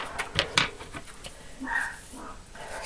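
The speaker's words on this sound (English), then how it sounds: "Sorry if you can hear my dog barking." A pet dog at home barks at things passing outside the window, giving a few sharp yelps followed by softer whining and whimpering, fairly close and heard without any talk.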